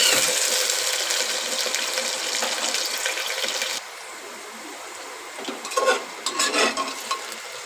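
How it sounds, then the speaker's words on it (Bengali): Potatoes fry in hot oil with a bright, steady sizzle that drops suddenly in level, then continues more quietly with a few louder bursts of spattering and stirring. "আলুটা আমি লাল লাল করে ভেজে নেব।"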